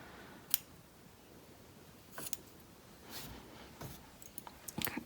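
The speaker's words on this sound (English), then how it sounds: "cut some off." Scissors snip through yarn during a finger-knitting rainbow craft, a few quiet, separate clicks and cuts spread over several seconds, close by with no talking.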